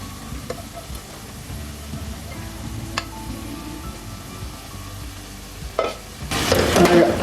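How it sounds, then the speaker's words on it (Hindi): Boiled lentils are stirred into a spice masala in a pan for a bitter gourd and lentil curry, with soft scraping and a light sizzle. A louder burst of frying and clattering comes near the end. "और अच्छी तरह दाल को मैं मिक्स कर लूँगी।"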